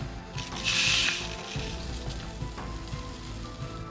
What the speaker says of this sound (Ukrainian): беремо кормову сіль. Її засипаємо у бутиль.